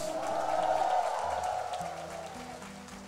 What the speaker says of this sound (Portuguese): Uma salva de palmas e um grito para Jesus.